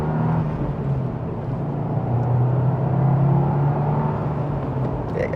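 A 2025 Subaru WRX Premium accelerates hard from first gear with turbo boost, a loud, dense engine rumble with a rising drone heard from inside the car, no voices.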